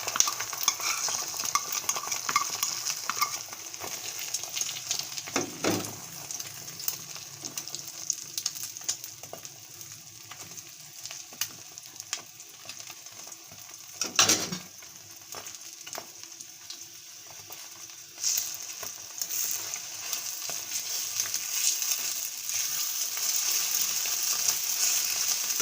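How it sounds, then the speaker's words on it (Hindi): Beaten egg frying in a pan with steady sizzle, stirred at intervals with sharp utensil scrapes and clatters against the pan; continuous close kitchen cooking sound, no talking. "ये हमने अंडा लिया 1 अदद, इसको हमने फेंट लिया अच्छे से। अब इसको फ्राई करेंगे।"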